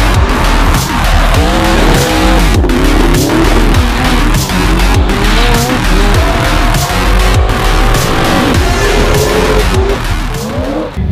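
Drift cars on a race track, engines roaring at high revs with continuous loud tire squeal and skidding, several passes blending into a dense, relentless wall of noise.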